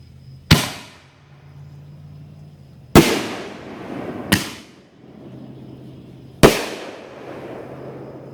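Excalibur canister firework shells burst four times at irregular intervals, each a sharp loud crack with a crackling decay, heard from a moderate distance with a faint low hum in the background.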